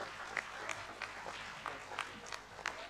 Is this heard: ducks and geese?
no